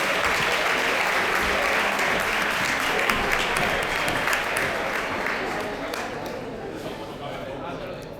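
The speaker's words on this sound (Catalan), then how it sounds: "Un fort aplaudiment, per favor" An audience at a graduation ceremony claps in a steady, full round of applause that slowly fades over about eight seconds.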